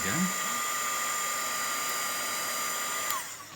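Heat tool blowing hot air to dry ink on a paper craft project, a steady whining hum running continuously and close before cutting off at the end.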